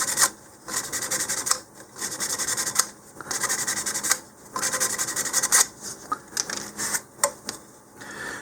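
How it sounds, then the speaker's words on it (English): Hand sanding roughens a plastic part of a model rocket kit in close, scratchy strokes, with several quick rubbing bursts separated by short pauses. "you can go ahead and just roughen this up a little bit"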